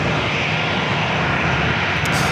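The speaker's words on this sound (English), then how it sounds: "Heading to Salt Lake City, flight 1210, it's A321." Airbus A321 airliner at San Diego airport, a loud steady broadband engine roar that stays close and constant throughout with no talk.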